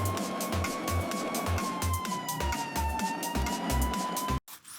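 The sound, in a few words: child imitating an ambulance siren while playing with toy trucks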